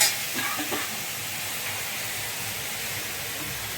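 Tomato frying in a pan, a steady close hiss of sizzling with a faint stirring scrape near the start, continuous and fairly even.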